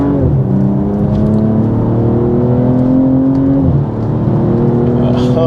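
A 2022 G42 BMW M240i pulls hard in second gear with manual shifting, its engine note loud and close, climbing steadily in pitch with a brief dip near the end before rising again.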